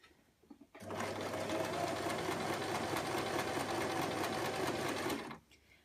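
A sewing machine runs a ruffle skirt seam in one steady burst of about four and a half seconds, its rapid, even motor hum and needle clatter close and loud between quiet pauses.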